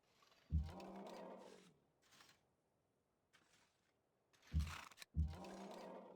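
Elephant units in the strategy game Civilization V let out deep, powerful moans, three loud groaning calls with quieter rumbles between, close and alone.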